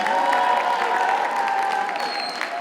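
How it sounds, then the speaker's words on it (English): Audience applause and cheering at a comedy show as a volunteer is cheered, a steady dense crowd sound filling the whole stretch, with a few tonal whistles or voices above it. "Give Bienfait a round of applause."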